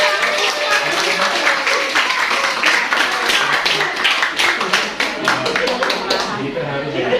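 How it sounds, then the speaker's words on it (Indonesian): Applause from the crowd at a farewell gathering for a doctor with door prizes, a steady dense patter of clapping sustained for several seconds with voices mixed in beneath it. "Tepuk tangan dong."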